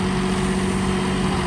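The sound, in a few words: New Holland 5620 CRDI tractor engine in second low gear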